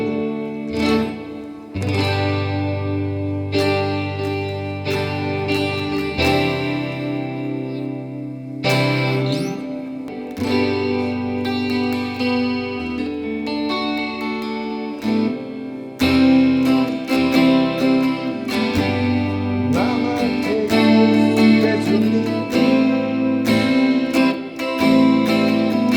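Rickenbacker 330/12 twelve-string electric guitar played through effects, bright chiming strummed chords with chorus and echo, loud and continuous with no voices.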